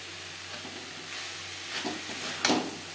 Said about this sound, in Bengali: হাই টু মিডিয়াম ফ্লেমে ড্রাই হওয়া পর্যন্ত নাড়াচাড়া করে নেব।